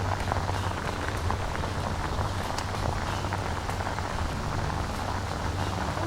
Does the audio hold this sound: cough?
no